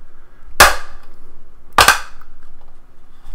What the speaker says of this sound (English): But you also heard some of the plastic breaking, right?